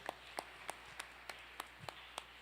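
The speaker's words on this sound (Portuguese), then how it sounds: "Uma salva de palmas." A church congregation clapping in a faint, steady rhythm, about eight evenly spaced claps with a voice barely present.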